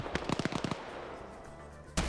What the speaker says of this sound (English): We're hearing more explosions detonating on the right side.